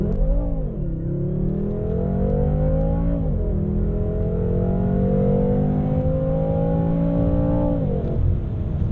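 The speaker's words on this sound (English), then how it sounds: "You get launch control active over there. Keep it there, full throttle, release the brakes and then" A 2017 BMW M6 Gran Coupe Competition launches at full throttle from launch control. Its engine roars and climbs hard, with sharp dips at each upshift before pulling up again, loud and close from inside the car.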